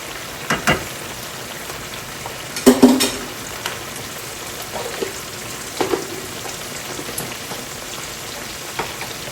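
Ginger garlic paste fries in a pan, a soft sizzling hiss under scattered spatula scrapes and clinks, close and moderately loud.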